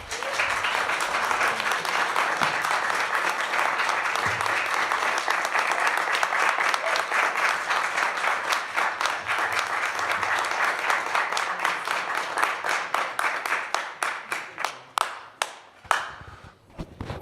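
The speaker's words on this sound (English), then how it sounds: "I appreciate everyone's enthusiasm, but clapping does sometimes take away from our opportunity to present as many witnesses as possible and let them speak." An audience in a legislative hearing room applauds during a heartbeat bill debate, producing a long burst of dense clapping that thins out into scattered individual claps near the end.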